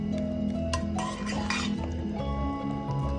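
A spoon stirs garam masala into a raw prawn and okra curry in a pot, with soft scraping and light clinks against the metal over a low simmering bubble.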